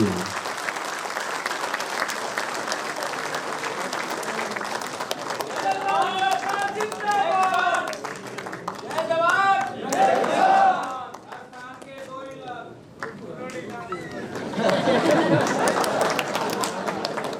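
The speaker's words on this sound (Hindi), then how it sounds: "तालियां बजती रहनी चाहिए" A large crowd at a political rally applauds with sustained, dense clapping and some chatter, swelling and fading over several seconds amid the noisy outdoor setting.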